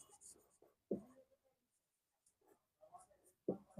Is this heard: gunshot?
no